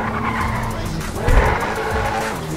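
A car in GTA V starts up and skids, its engine droning steadily while a short tyre screech and thump swell in the middle, with faint talk in the background.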